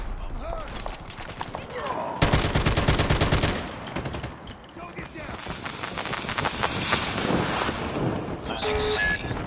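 Sentry gun gunfire during a Call of Duty multiplayer match, heard as a dense, loud burst of rapid automatic shots for about two seconds, followed by scattered distant shots, wind and voiced game announcements.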